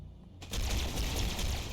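Rapid gunfire from a weapon in the Halo video game, bursting in after a short quiet lead-in and continuing as a loud, dense, sustained volley with a sharp firecracker-like crackle.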